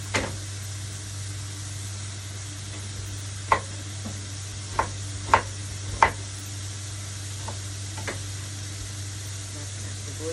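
Onions cooking in a pan for homemade yakisoba give a steady low sizzle throughout, broken by several sharp clacks of a utensil stirring against the pan.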